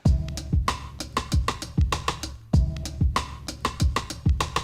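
A looped drum beat from a Rex file with punchy low kicks and sharp, clicky rimshots repeating in a steady groove, a faint musical bed underneath.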